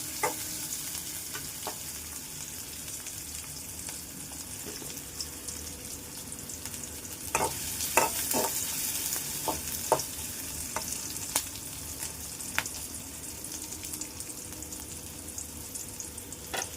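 Onion and curry leaves frying in a pan for kolambi masala, stirred with a utensil: a steady close sizzle runs throughout, broken by a scatter of sharp scraping clicks in the middle stretch, with no voices.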